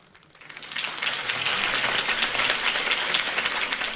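A crowd applauds after a campaign speech in the Batman Telltale Series video game, the clapping swelling in from quiet within the first second into a steady, broad wash of sound that holds to the end.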